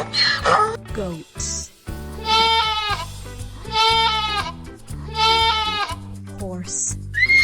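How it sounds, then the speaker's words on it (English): Goats bleat three times in long, quavering cries, loud and close with even spacing, set against steady background music and brief voice-like sounds at the start and end. "Goats."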